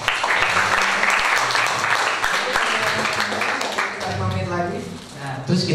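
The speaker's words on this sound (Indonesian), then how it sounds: "Tepuk tangan dong." An audience applauds at an openSUSE.Asia Summit tech talk in Yogyakarta, with dense, steady clapping that fills the room and eases off near the end while a voice talks underneath.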